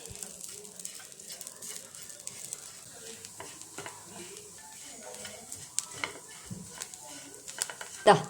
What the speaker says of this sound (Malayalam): അപ്പോൾ ഇതെല്ലാം നല്ലപോലെ വറുത്തെടുക്കാം